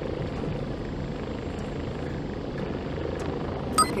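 Helicopter in the VR flight game Warplanes Air Corp, a steady whirring rotor and engine drone held at an even level throughout, with a brief sharp blip near the end.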